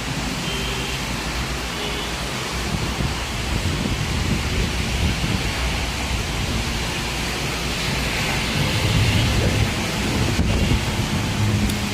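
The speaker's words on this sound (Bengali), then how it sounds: "আজ সকাল থেকে চট্টগ্রাম বিভাগের মধ্যে থেমে থেমে বৃষ্টি হচ্ছে।" Steady rain falls over Chittagong city in Bangladesh, an even, continuous hiss with a low rumbling wash underneath and no voices.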